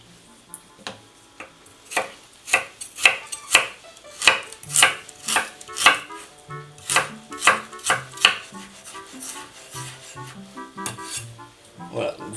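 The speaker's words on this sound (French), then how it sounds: "vous avez coupé une première partie votre gingembre, une première fois." Fresh ginger chopped with a knife on a board, with a long run of crisp, evenly spaced thuds that grow quicker and lighter toward the end, with faint talk underneath.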